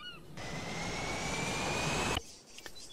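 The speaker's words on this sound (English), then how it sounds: "Let's spawn a plane." A jet airplane in a video game roars steadily for about two seconds, its engine hum loud and constant before cutting off abruptly, followed by brief quiet clicks.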